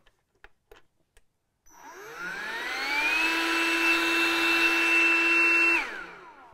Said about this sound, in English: I'll let you hear what it sounds like on the inflator